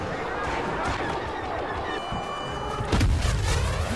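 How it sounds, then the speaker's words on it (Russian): Explosions and screaming crowd a battle in Star Wars Battlefront. Dense, continuous rumble and chaotic noise build to a heavy blast near the end. "Ух, все взрывается, все кричат."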